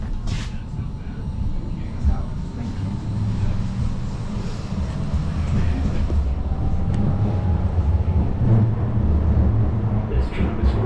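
Blackpool tram on its way to Fleetwood Ferry, a steady loud low rumble of the running car with a faint motor whine rising and falling, continuous throughout with no distinct voices.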